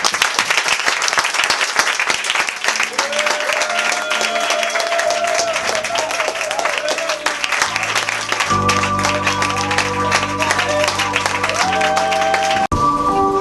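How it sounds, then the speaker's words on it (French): A church congregation applauding to acclaim God, a dense, continuous burst of clapping from many people with music playing along underneath throughout. "Est-ce que tu peux acclamer Dieu?"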